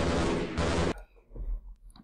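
A rapid burst of loud gunfire in the video game Half-Life rattles for about a second, then cuts off, leaving low rumbling and a few faint thuds.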